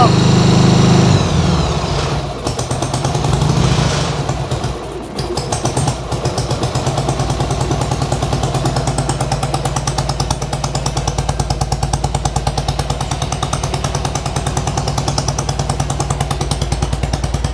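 A Harley flat tracker motorcycle engine running at a fast, high idle with the choke partly in, a loud, close, steady rapid putter that settles into an even drone after a brief rev at the start.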